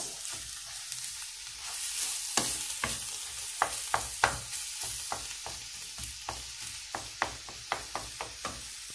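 Spinach and chicken balls frying in a pan, a steady soft sizzle broken by a run of sharp stirring clicks and scrapes, close and moderately loud, with no voices.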